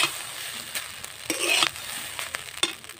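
Green chillies tossed into a hot frying pan for minicket-rice fried rice, giving a soft, steady sizzle with a few clinks and scrapes of stirring, fairly quiet.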